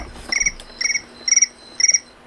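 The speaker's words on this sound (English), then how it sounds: "The crickets are telling us it's time to go." Crickets chirp in four evenly spaced bursts of rapid trills, steady and fairly close against a quiet background.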